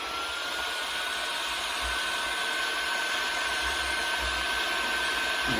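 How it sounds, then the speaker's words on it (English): A heat gun blows hot air steadily to melt solder on wire strands over an old plastic cutting board, a constant broadband whoosh with a low rumble, close and unbroken, with no talk. "you get the heat gun going"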